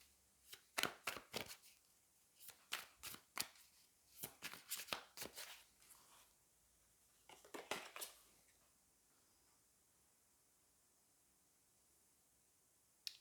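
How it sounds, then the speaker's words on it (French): Tarot cards drawn and handled one after another, a run of soft crisp shuffling and slapping bursts in close quiet, then a lull before a final faint tap. "Je vais prendre 2 autres cartes ici pour voir si on peut avoir un petit peu"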